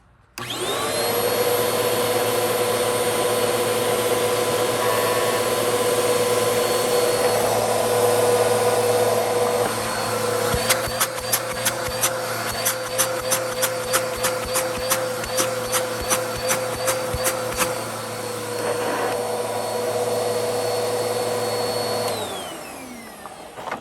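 A Bissell CleanView vacuum cleaner with a bad motor runs with a loud, steady whine and hum, then a stretch of rapid rhythmic clattering ticks before the motor spins down.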